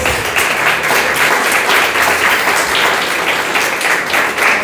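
A church congregation at a Sunday service applauds in praise, a loud, continuous roar of many people clapping together that holds steady throughout without any spoken words.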